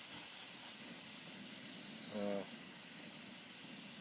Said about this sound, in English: She's burning nice. You can hear it.